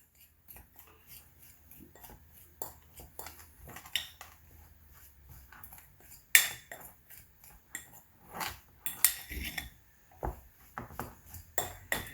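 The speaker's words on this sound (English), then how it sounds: "And we mix." Utensil clinking and scraping against a bowl while graham cracker crust ingredients with vanilla and cinnamon are mixed, a series of quiet irregular taps and scrapes with a few sharper clinks, no talking.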